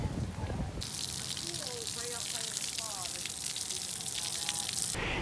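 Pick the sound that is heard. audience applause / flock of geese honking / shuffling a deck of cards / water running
water running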